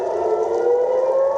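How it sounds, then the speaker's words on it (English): A civil defense air raid siren wails across central Israel, a loud sustained steady tone with no break and no voices. "following the sirens that sounded in central Israel, a missile launched from Yemen was intercepted"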